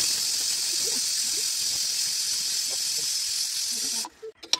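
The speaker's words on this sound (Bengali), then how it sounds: "প্রেসার কুকারটা বন্ধ করে আমি সিটি হওয়ার জন্য অপেক্ষা করব" A closed pressure cooker cooking khichuri vents steam in a loud, steady, close hiss that cuts off abruptly near the end, leaving a few small clatters.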